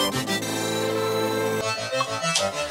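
A processed synth arpeggio plays a dense, bright rising-and-falling note pattern, then shifts to choppier separate notes partway through, loud and alone with no voices.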